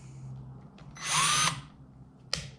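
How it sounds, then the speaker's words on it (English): A SKIL 20V cordless drill whirs briefly at high speed as it drives a 3-inch deck screw with no pilot hole, then stops, with a short burst afterward over quiet background hum. "So basic 3-inch deck screw,"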